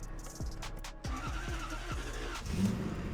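Lexus LS400 engine after an ECU rebuild: repeated starter cranking bursts catch into a steady running idle, close and fairly loud, with no talk.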